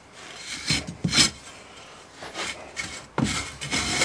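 Moulding sand in a metal casting flask struck flat with a strickle, giving several short, gritty scraping strokes at a close distance that come in irregular bursts with quiet gaps between them and no talking.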